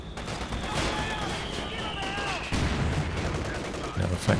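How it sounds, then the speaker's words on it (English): A Flak Panzer in Company of Heroes 2 keeps up a steady, dense stream of rapid gunfire over battlefield noise, with a few heavier thumps and some whistling shell sounds mixed in. "Now the Flak Panzer getting to work."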